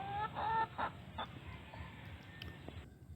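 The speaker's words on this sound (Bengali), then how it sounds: "এটা হচ্ছে নর্দান ববয়েড কোয়েল" Northern bobwhite quail, about three months old, at a hobby poultry farm, giving a few short whistled calls early on over a faint background of clucking fowl, fairly quiet and not very close.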